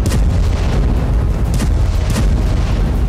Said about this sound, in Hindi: दक्षिण कोरिया के हिस्से वाले विवादित योन प्योंग द्वीप की ओर बेहिसाब गोले दाग दिए